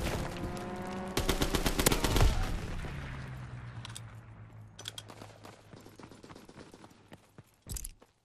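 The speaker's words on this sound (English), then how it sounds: "Enemy strafing run inbound." Gunfire from an enemy strafing run in Call of Duty WWII: a loud burst of rapid shots and a heavy impact, then a long fading rumble with scattered distant cracks and one more sharp burst near the end.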